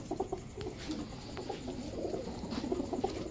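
Pigeons coo softly in short, repeated low calls, several birds overlapping at a moderate distance over a faint background hum.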